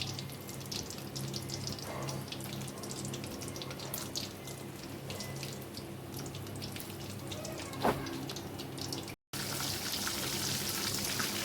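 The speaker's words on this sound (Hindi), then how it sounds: "ऑयल गर्म हो गया, अब मैं इसमें पकौड़े डालूँगी।" Small pakoras frying in hot oil for Punjabi-style kadhi pakora, a steady broadband sizzle running throughout with a brief gap near the end, no talk.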